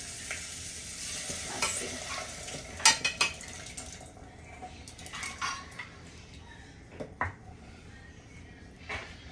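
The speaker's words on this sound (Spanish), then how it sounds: "Entonces les voy a estar agregando en este instante las habichuelas ya blanditas" Softened pinto beans go into a sizzling sofrito in a pot and are stirred. Gentle frying hiss sits under sharp clinks and scrapes of a spoon against the pot, with a brief spoken word.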